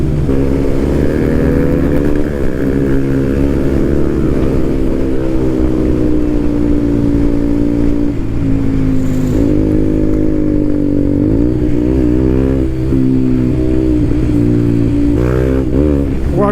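A KTM Duke, a light roadster motorcycle, roars while being ridden, its engine loud and close with steady drone and rising and falling revs through gear changes over a long stretch.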